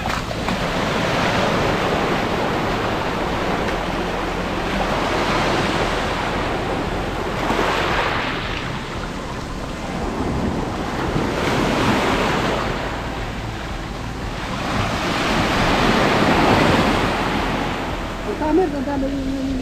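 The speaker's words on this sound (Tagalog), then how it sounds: "Grabe, laki ng alon." Big ocean waves surge and crash near a port pantalan, a steady roaring wash of surf with swells building several times, mixed with wind noise on the microphone.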